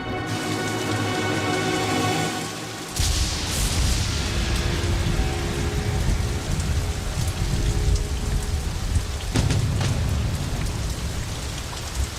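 Heavy rain pours down steadily at night in the mountains, a dense drumming wash that swells after a tonal opening, with low rumbles underneath.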